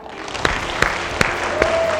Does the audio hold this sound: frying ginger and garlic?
no